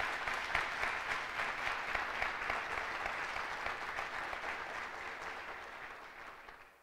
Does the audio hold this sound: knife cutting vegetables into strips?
no